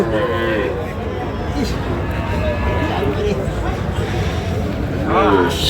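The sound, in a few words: Sahiwal bull calves mooing at a cattle market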